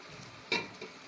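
Masala spices fry in a pot over lowered heat, with one brief scrape of stirring rising over a faint, steady sizzle.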